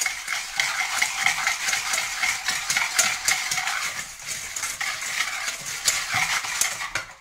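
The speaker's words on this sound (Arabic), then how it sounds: "سنخلط المقادير مزيان" Chocolate cake batter ingredients, including starch and sugar, stirred in a bowl: quick, rhythmic scraping and clinking of a spoon against the bowl, close and loud, with no talking.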